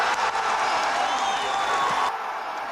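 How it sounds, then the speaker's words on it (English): A crowd in West Berlin cheers: a dense, steady wash of many voices and clapping that holds level before thinning abruptly near the end. "As cheers filled the West Berlin crowd"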